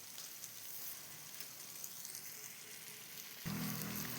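Unniyappam batter frying in hot oil, a soft, steady sizzle with a crackling hiss that jumps louder near the end.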